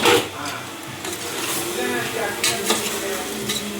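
Onions stir-fried with salt in a pan make a continuous sizzle with scraping stirring strokes and light utensil clinks, while a voice murmurs faintly in the background.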